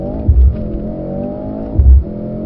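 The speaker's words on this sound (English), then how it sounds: "Emergency stop to 0. Emergency stop. Hard as you can." A Mercedes-Benz car on the Brooklands track accelerates hard, its engine rising in steady harmonic tone with two deep bursts of revving and a constant whir throughout, loud and close.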